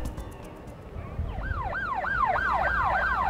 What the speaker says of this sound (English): All the sirens could mean only one thing.